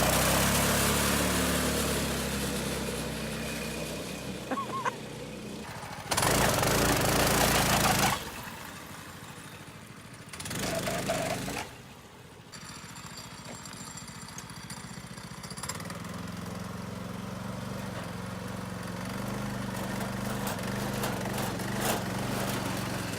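A small go-kart engine runs loudly and close with a rough, buzzing drone, revving and cutting out briefly in two spots before settling into a steady idle-like chug.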